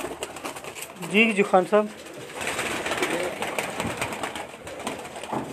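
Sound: pigeons cooing

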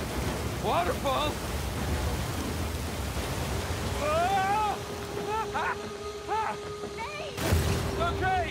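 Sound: rushing waterfall and river water in Uncharted 4 video game

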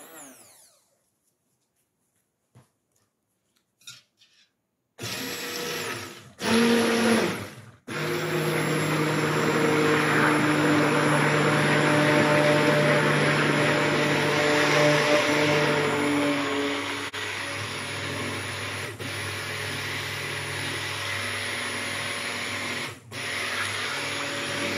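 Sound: stick blender mixing sheep tallow soap

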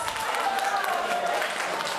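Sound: wedding guests applauding the new groom

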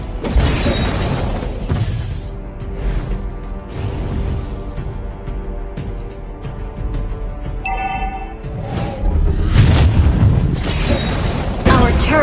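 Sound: turret destroyed explosion in the video game Mobile Legends

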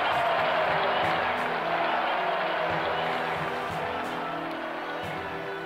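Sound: crowd applause from a video game

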